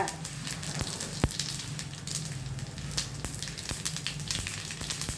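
Crackling sizzle of cumin and other tempering seeds popping in hot oil for upma, a continuous frying hiss with sharp pops scattered throughout, close and fairly quiet.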